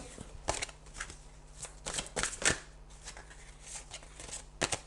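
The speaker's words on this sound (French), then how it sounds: "je vais tirer une dernière carte" Tarot cards are shuffled and drawn nearby, giving a series of soft riffling bursts and quick flicks that come in irregular clusters over a quiet background.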